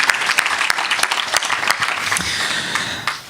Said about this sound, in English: accept a warm round of applause from the audience